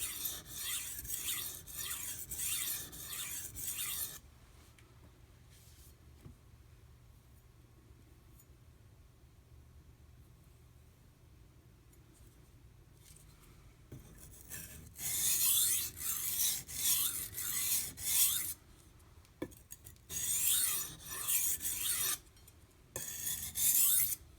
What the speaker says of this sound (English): I'm grinding into the steel a little deeper.